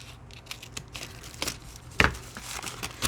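Paper being cut with scissors while making a no-sew envelope journal, a few soft crisp snips and crinkles close by, with the sharpest cut near the middle.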